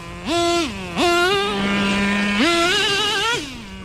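A Traxxas T-Maxx nitro RC monster truck engine screams at high pitch, rising and dropping in pitch as the two-speed transmission shifts gears, with several distinct revving bursts close to the microphone.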